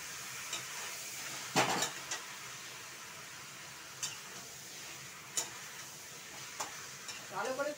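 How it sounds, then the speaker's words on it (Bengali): Chili powder and spices sautéing in oil in a pan, a soft low sizzle punctuated by several sharp scrapes and taps of a spoon against the pan. "লঙ্কার গুঁড়ো, এখানে আমি ভালো করে কষাবো।"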